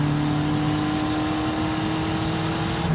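China's first sports coupe, bought for $800, roars steadily up close as its engine revs under acceleration, a loud, continuous drone with a strong hum and no voices over it.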